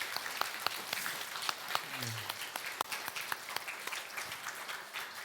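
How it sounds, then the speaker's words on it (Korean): A church congregation applauds continuously, dense clapping from many hands filling the space at moderate volume, with a brief low voice murmur partway through. "우리 하나님께는 영광의 박수로, 또 옆 사람에게는 좋다는 박수로"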